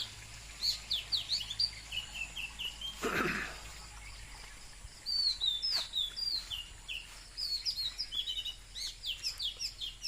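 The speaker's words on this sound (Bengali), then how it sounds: "ওই যে পাখি ডাকতেছে।" Several small birds chirp and tweet in quick, repeated bursts at dawn during an early morning walk, fairly close, with a brief sniff or throat-clearing sound partway through and no talking.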